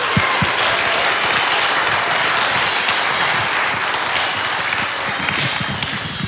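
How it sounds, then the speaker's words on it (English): Loud, dense audience applause fills a concert hall, steady and sustained throughout with no break and no voices standing out. "Give them all a round of applause, please."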